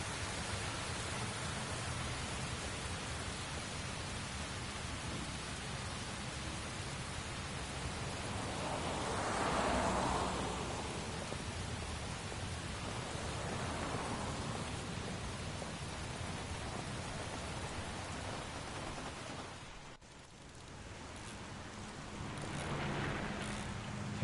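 Steady rain falls in Heavy Rain, a constant soft wash of drops at moderate distance that swells and eases, with a brief dip near the end and no talking.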